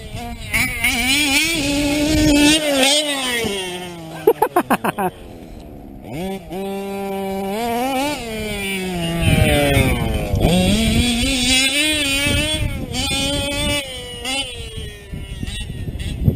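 Gas-powered TLR 5B RC buggy with a modded OBR 34SS reed engine screaming at full throttle up a hill, a high buzzing whine that rises and falls as it revs, brief popping bursts, someone talking over it.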